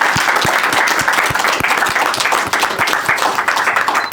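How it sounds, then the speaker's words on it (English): A crowd at a film screening and panel discussion at Chapter Arts claps for the panelists, loud and close, with distinct individual hand strikes standing out within the sustained applause. "Please, round of applause for Hawa and Phoebe."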